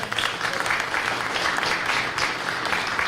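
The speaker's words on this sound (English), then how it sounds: "Let's give him a big round of applause." An audience at a Field of Dreams event announcing a new local team gives a short burst of applause, brisk clapping with small surges throughout.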